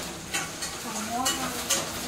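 Tomatoes dropped into a hot oiled pan while cooking a tomato rice dish, with steady frying sizzle and several clear scraping stirs of a spoon against the pan, close and moderately loud, no talking.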